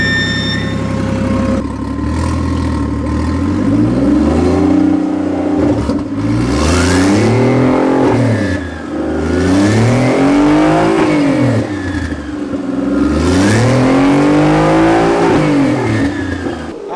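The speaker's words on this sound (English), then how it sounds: "It feels like I'm revving it on neutral" BMW 335i engine revving repeatedly with no load, loud and close, the pitch climbing and falling in several long smooth sweeps over a steady drone, no speech.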